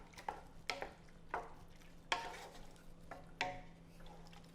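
Two pounds of shrimp stirred into a simmering New Orleans Shrimp Creole stew in a pot, a series of wet scraping spoon strokes with a soft bubbling bed underneath.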